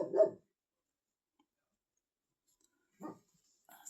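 A big dog barks twice indoors, one bark at the start and another about three seconds later, separated by near silence, with a faint third sound at the very end.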